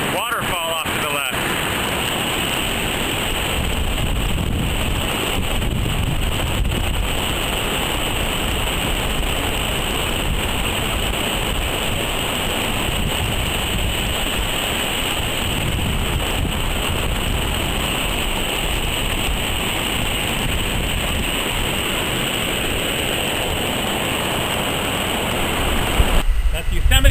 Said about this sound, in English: I'm here at Bridal Veil Falls, and the wind is sort of blowing the waterfall off to the left.